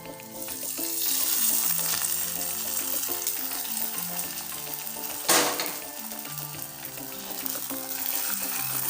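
Hot oil tempering sizzles continuously as it is poured over ginger and tamarind curry, a close steady frying hiss with a sharp burst midway, faint stirring and background music underneath.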